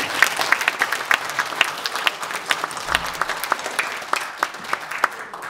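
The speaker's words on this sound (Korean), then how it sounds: "자, 박수로 찬양하겠습니다" A church congregation at a Korean Christian alumni service claps together in steady applause, dense and fairly close, with a few cheers rising through the clapping.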